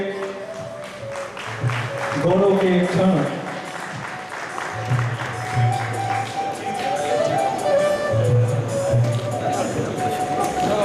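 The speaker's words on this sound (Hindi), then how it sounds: "तो जोरदार तालियां इस पूरे ग्रुप के लिए।" Applause from an audience at a Harda ceremony honouring a singer's birthday, greeting the group on stage; steady clapping runs throughout beneath a voice speaking over it.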